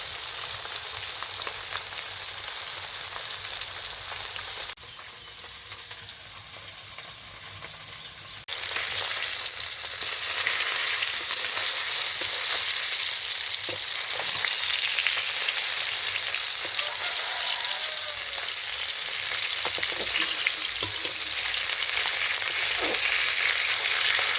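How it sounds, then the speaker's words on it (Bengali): Rohu fish pieces fry in hot oil in a home kitchen, giving a loud, steady broadband sizzle that continues throughout, dipping briefly around a few seconds in before resuming at full strength, with no talking. "মাছ এটা ভাজা হচ্ছে, মাছের ঝোল, আর তার সঙ্গে হবে চচ্চড়ি, রুই মাছ ভাজা"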